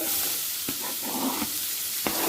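Onions sizzle and hiss in hot ghee, a constant frying crackle with a few brief scrapes of stirring.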